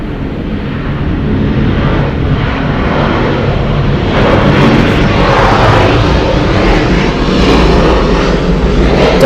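Delta Airlines Boeing 737-9ER jet at Atlanta Hartsfield-Jackson airport, a loud continuous engine roar that swells slightly, heard on its own without voices.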